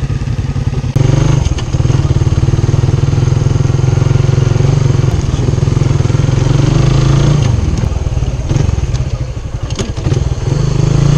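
A loud motorcycle engine rumbles steadily throughout, close by, with rattling and a slight shift in pitch as it revs.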